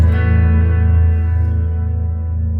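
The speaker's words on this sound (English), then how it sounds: "I'm pretty sure that's the chorus on the yellow" A sustained electric guitar chord rings out through a Boss Katana MkII amplifier's chorus effect, its tone gently shimmering and warbling as it slowly fades, with no other sounds.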